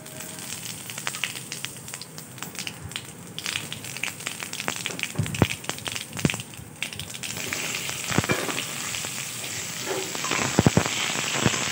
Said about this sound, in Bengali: একটা শুকনো লঙ্কা আর একটু জিরে ফোড়ন দিয়ে তেলের মধ্যে কুমড়োটাকে আগে ছেড়ে দেবো